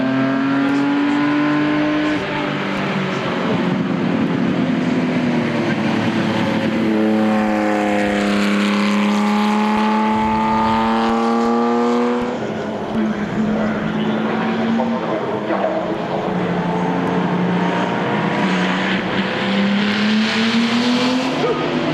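Classic race cars lap the circuit at Le Mans Classic 2010, engines roaring loudly and rising in pitch as they pass, one car's note sweeping through before others follow close behind.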